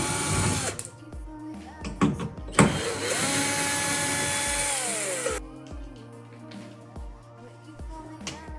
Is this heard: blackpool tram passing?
no